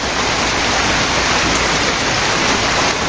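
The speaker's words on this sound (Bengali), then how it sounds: "এক ঘন্টা হয়ে যায় বৃষ্টি হইতেছে" Steady, dense rainfall hisses evenly on surfaces, loud and unbroken from start to finish with no voices.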